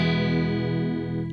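Electric guitar through a VOX AmpPlug headphone amplifier with its chorus effect on, a single sustained chord ringing with a shimmering, slightly distorted wash that slowly fades, no talking.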